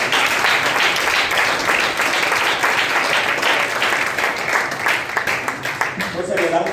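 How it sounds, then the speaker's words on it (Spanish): Congregation applause in a church service, steady dense clapping from many people filling the room, continuous throughout and tapering slightly near the end as a voice begins. "Denle un aplauso al Señor."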